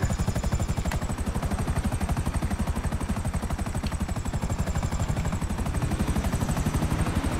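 Video game helicopter flying in over Vespucci, its rotor throbbing in a fast, steady chop with a constant high whine, loud and close throughout.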